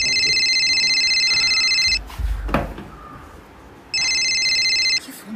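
A phone rings with an electronic trilling tone in two loud bursts separated by a short gap, with a brief thud and rustle in between.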